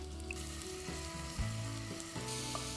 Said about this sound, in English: now I'm going to add the mutton to it.